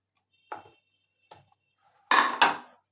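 Potato slices are laid into a metal baking tray for a baked fish dish, heard as a few sharp clinks and taps on metal, two quick ones, then a louder pair close together.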